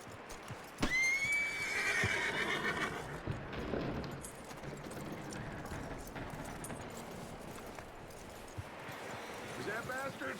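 A horse in the game Red Dead Redemption 2, in a snowstorm, gives a loud, close whinny that trails off, followed by soft hoof clops over steady wind and background noise.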